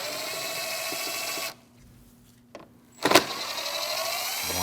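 Phillips screws come out of a fender splash-shield piece on a 2012-2016 Honda CR-V, with a loud steady whirring that cuts out, leaves a near-silent gap with a brief click, then surges back.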